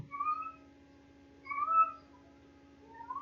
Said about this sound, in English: There's a cat just screaming sadly in the hallway.